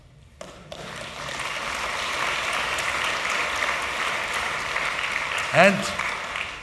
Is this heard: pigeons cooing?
no